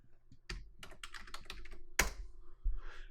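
Keys clatter on a computer keyboard while a command is entered in a terminal on a virtual machine, a quick run of close, crisp taps with a heavier stroke near the end and no voices.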